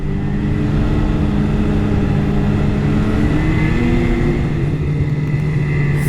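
A car accelerates along a highway in New Brunswick, engine drone rising in pitch with steady road and wind noise, loud and close throughout.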